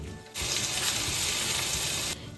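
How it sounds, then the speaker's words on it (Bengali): Vegetables sauté in butter in a grill pan, a loud steady broadband sizzle that starts abruptly, holds for nearly two seconds, then cuts off, close and with no voices. "এখন সবজিগুলোকে আমি একটু সতে করে নেব"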